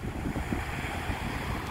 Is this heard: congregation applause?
no